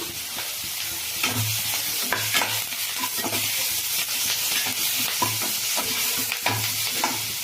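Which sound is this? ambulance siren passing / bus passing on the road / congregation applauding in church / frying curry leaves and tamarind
frying curry leaves and tamarind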